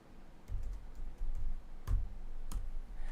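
Someone types a search on a computer keyboard, a handful of quiet, distinct key clicks and taps spaced irregularly over a low room hum.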